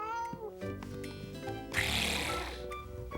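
A voice imitates a cat in the Caillou cartoon, giving drawn-out meows, followed by a burst of noisy, breathy sound; cartoonish music plays alongside.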